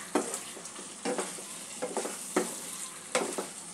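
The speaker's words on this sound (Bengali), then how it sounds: "ডিমটা 2-3 মিনিট আমি একটু কষিয়ে নেব।" Eggs frying with spices in a pan for egg curry, a faint steady sizzle broken by repeated spatula scrapes and stirs every second or so.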